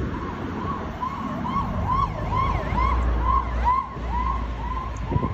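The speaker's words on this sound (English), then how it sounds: "Another nice siren." Ambulance siren wailing in fast repeated rising and falling sweeps, moderately loud with traffic rumble underneath.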